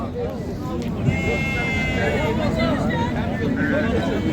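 Sheep bleat repeatedly amid a busy crowd at a sheep market in Beylagan, Azerbaijan, with overlapping voices and market chatter throughout.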